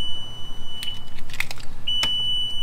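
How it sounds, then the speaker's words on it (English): A few short electronic beeps from a Bass Cat Lynx bass boat's gauge, sounding when the kill switch is pulled, over a steady high-pitched tone, with quiet background noise between them. "If your kill switch is pulled, it makes all the beeping noises."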